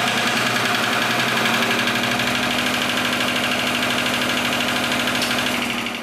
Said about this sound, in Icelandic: Og svona fer vélinn í gang og rafmagni fer.